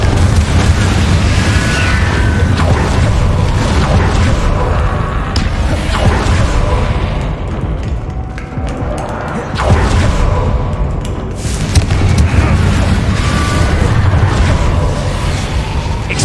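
Confringo fire spell blasts in the video game Hogwarts Legacy, heavy booming explosions rumbling continuously with loud bursts and crackling debris, dense and sustained throughout with no pauses.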